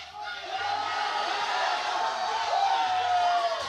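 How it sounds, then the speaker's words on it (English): A crowd at a powerlifting competition, the 2023 British Open, cheers and whoops loudly and continuously, voices rising and swelling throughout as spectators shout encouragement. "He's calling for the hype of the crowds."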